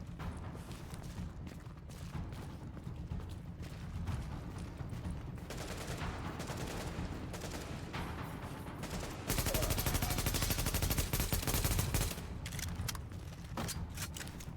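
Rapid gunfire from a gun in a video game, sustained automatic shots over constant action noise, building to a louder, denser burst partway through before easing slightly.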